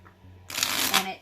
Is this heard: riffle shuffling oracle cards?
yes